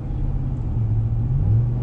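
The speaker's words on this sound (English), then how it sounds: "It does have a nice rumbling up in the V8." A 2021 Ram 1500 Limited with a V8 engine rumbles steadily, a deep, even low-pitched drone that holds close and constant throughout with no voices.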